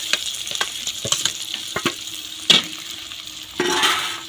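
Onions frying with curry leaves for egg bhurji, a steady sizzle broken by sharp scraping stirs and clinks of a spatula, with a louder hiss rising near the end and no voices.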